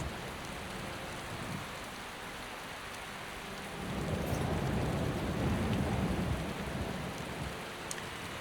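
Steady rain in Skyrim, a continuous wash of hiss that swells louder midway through, with a faint low rumble beneath and no voices.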